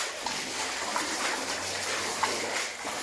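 Water drains through the flooded bottom level of an old slate mine, a steady close rushing and splashing that fills the clip with no talk.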